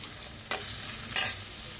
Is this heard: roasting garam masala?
yes